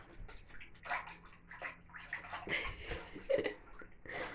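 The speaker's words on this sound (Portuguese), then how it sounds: "Primeiro banho registrado aqui no canal do Drago." Water sloshes and splashes in a bathtub during a dog's first bath, with irregular close bursts of movement and dripping running throughout.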